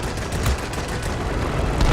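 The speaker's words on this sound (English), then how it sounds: "This aircraft also sports a very impressive set of 20mm cannons that are fairly powerful." Rapid 20mm aircraft cannon fire in a flight video game, a dense, steady stream of overlapping shots forming a loud, continuous rattling roar across the whole moment.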